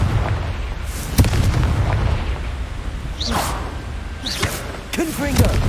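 Repeated Confringo blasting-spell explosions in the video game Hogwarts Legacy: a sharp booming burst near the start, then further blasts and whooshing magical effects, with voices calling out over dense game sound.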